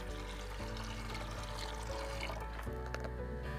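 Water poured into a measuring cup at a bush cooking camp beside a 4WD, a steady low pouring and filling sound with no pauses, quiet and close, with background hum.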